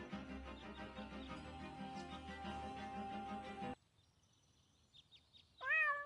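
Cat in the Deponia video game, a single loud, drawn-out meow near the end, coming after sustained background music that cuts off into near silence with a few faint sounds.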